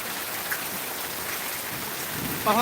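Heavy rain pours down without pause in a continuous, dense hiss close by, with a short tonal squeak right at the end.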